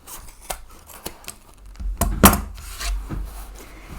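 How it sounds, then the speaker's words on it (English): Scissors snip fabric corners of a small sewn market tote bag, giving a few crisp close cuts spaced across a few seconds, one louder snip near the middle. "go ahead and trim those corners to a 1/4 inch"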